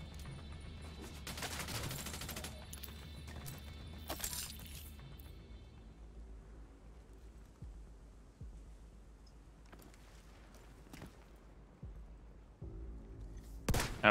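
Gunfire in an online shooter game at night, with scattered bursts and single shots cracking at intervals over a low background rumble, a dense volley early on and sharper isolated reports later.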